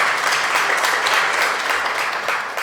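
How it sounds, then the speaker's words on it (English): Applause from an audience at a virtual investment launch, a dense continuous clatter of many hands, loud and steady throughout, tapering only slightly at the close. "Let's give him another round of applause."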